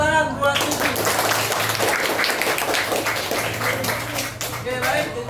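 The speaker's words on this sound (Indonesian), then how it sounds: "Tepuk tangan buat ini." A group of people claps hands together in a lesson setting, a dense patter of claps lasting several seconds, with voices talking underneath.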